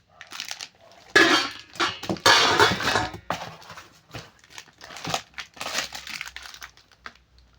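Steel cookware lid being handled, producing a run of clattering, crinkly metallic rattles and scrapes in irregular bursts, close and fairly loud, with no talk.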